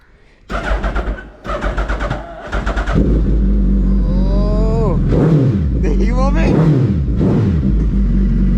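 A Suzuki Hayabusa motorcycle with an aftermarket Brocks exhaust starts with a few stuttering cranks, then idles loudly and revs repeatedly, each rise and fall of the engine close and powerful.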